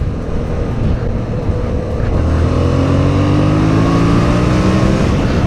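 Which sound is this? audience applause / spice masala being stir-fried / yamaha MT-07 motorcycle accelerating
yamaha MT-07 motorcycle accelerating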